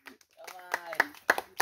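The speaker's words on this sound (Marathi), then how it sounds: "टाळ्या वाजवा" A few sharp hand claps break out from a small group at a village temple outing, mixed in with a voice talking over them.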